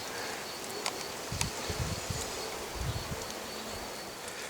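Scout bees buzz around swarm traps in the open, a faint steady hum with occasional closer passes, set against soft background noise and no voices.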